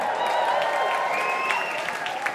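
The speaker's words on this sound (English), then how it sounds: "just keep clapping, don't stop clapping" Audience at a poetry slam final at the Roundhouse clapping steadily together, a dense wash of hand claps with some crowd noise and a few cheering voices on top.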